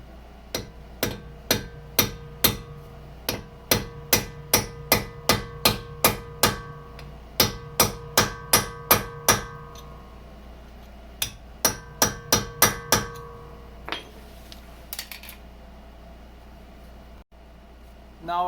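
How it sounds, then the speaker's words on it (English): Nail punch ground down to width, hammered to unstake an axle nut while removing axles, a long series of loud, evenly paced metallic strikes in several bursts with short pauses, then quieter handling noises. "I ground it down to the right width, so you can just hammer it in there like that"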